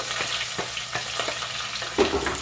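Onion, green chilies, ginger and garlic tossed into hot oil for a coconut-free fish curry: a dense, continuous sizzle with repeated stirring scrapes and a louder hiss near the end, no speech.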